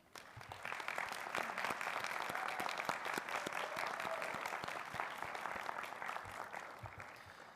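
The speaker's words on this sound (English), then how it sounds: "So graduates, please join me in a round of applause for your loved ones." A graduation audience for the College of Graduate Studies Class of 2026 breaks into a round of applause, many hands clapping in a steady, sustained roar that swells quickly and holds, heard from a moderate distance.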